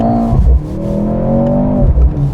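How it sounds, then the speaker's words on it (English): A 2023 Mercedes-Benz C43 AMG accelerates hard, its engine note climbing loudly through the revs with a brief dip at a shift, heard from close by in the cabin. "Let's accelerate one more time here."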